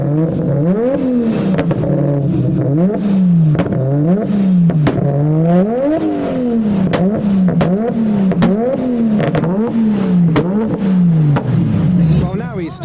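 A Nissan Skyline with an RB26 engine revs hard again and again at a JDM car show, its loud, close exhaust note rising and falling in repeated sweeps for the whole stretch.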